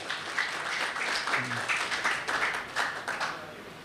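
Audience applause breaks out at a gathering in Pakistan, with scattered, uneven clapping in short bursts at moderate volume, briefly joined by a voice partway through.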